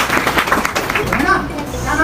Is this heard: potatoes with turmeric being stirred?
no